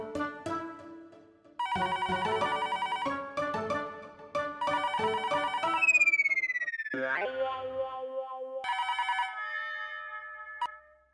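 A telephone ringtone plays a bright electronic melody in repeated bursts, with a sliding tone partway through, loud and close with no talking.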